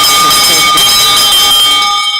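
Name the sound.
bell ringing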